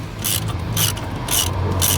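Ratchet wrench threading a bolt into a corroded hole on a BMW E60, four rhythmic bursts of close, loud clicking over a low steady hum.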